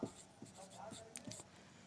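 Marker or chalk scratches on a board during a physics lesson on light rays, short strokes in quick succession, faint and close, alternating with quiet speech.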